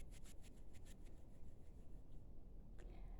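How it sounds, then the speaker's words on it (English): Hands rub together to build warmth before a heart-opening exercise, giving a close, quiet papery swish in quick back-and-forth strokes that fades briefly before a final rub. "I'd like you to rub your hands together"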